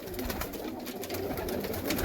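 Pigeons coo softly in a gentle, continuous murmur at a bird sale, with a faint background hum and no talking.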